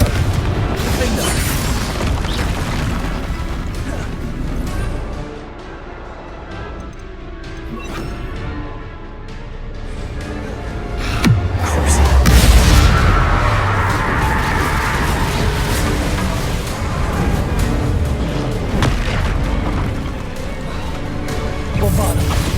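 Confringo and Bombarda spell blasts in Hogwarts Legacy go off repeatedly in a combat scene, heavy booms and crashes mixed with fighting effects and a voice calling out spells.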